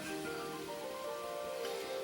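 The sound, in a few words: onion sizzling in a hot pot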